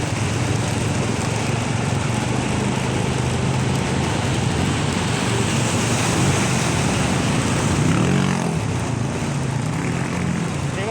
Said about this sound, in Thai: ฝนตกหนักน้ำท่วม ถนนกลายเป็นคลองเลยครับผม